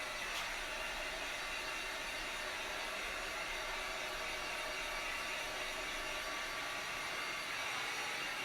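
A hair dryer dries a crown with a steady, faint airy whoosh, constant and unbroken throughout.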